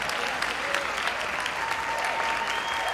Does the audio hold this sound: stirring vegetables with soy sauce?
no